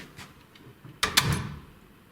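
An old wooden door in a rectory building swings shut with a sharp knock followed by a second thud and a short rattling tail, fairly close after near silence.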